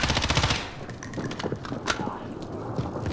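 M13 rifle with FMJ rounds firing in Call of Duty Warzone, a dense rapid burst at first that eases into scattered shots and game noise.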